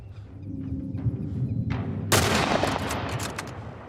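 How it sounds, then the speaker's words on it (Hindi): Gunfire in The Last of Us Part 1 during a fight against stalker zombies, a few dull muffled shots followed by a sharp loud blast and lingering rumbling echo. "एली इतना वेट क्यों कर रही है गोली चलाने के लिए?"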